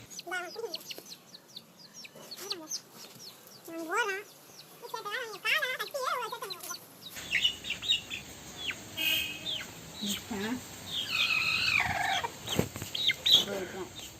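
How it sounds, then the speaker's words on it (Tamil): Black chickens cluck and squawk nearby in irregular bursts, with a person talking over them in the second half amid background rustling. "கோழி வர காக்கான்னு கத்திட்டே இருக்கு."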